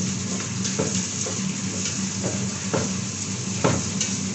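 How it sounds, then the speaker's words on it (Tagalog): Meat sautéing and being stirred in a pan for a home anniversary meal: a steady, close sizzle with repeated scraping stir strokes at an irregular pace, no voices. "Habang ibisahin natin yung karne"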